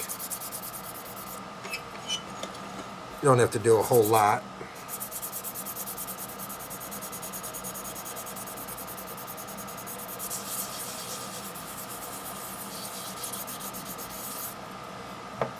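Brief, scratchy rubbing strokes of a fine sanding stick on the edges of a model locomotive tank, a quick back-and-forth burst close by, with someone speaking quietly afterward.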